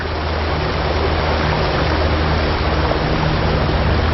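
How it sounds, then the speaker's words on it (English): Water rushing into a Panama Canal lock chamber through holes in the floor, a steady loud broadband roar of churning water with no breaks. "Gravity pulls the water down from the lake and sends it into the lock chamber through 100 man-size holes in the floor."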